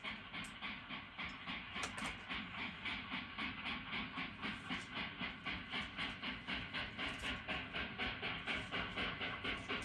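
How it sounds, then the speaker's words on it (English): A westbound Hudson steam locomotive departs Dayton Union Station for Cincinnati, its steady rhythmic exhaust chuffs beating evenly over rolling rail noise, moderately distant. "A westbound Hudson departs Dayton Union Station for Cincinnati."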